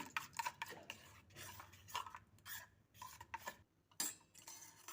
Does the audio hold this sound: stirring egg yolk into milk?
yes